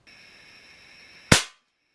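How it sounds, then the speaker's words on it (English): A single sharp shot from a Crosman 760 air rifle firing a pellet, a loud close crack after a steady electronic whine, decaying quickly into silence. "So I'm going to shoot one more of each pellet"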